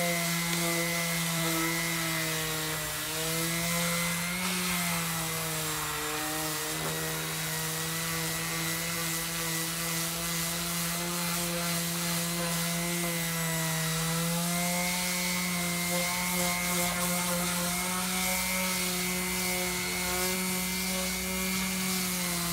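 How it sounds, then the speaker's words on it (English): A power sander working old barnwood, a loud continuous whirring drone with a steady pitch that dips slightly now and then under load, close up and without talk. "here's where I just sanded"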